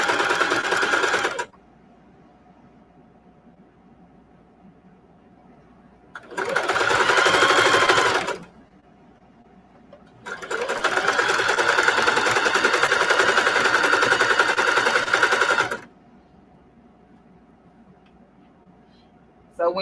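A sewing machine embroiders jeans, running in three loud, close stretches of rapid stitching, the last one long, with quiet gaps between.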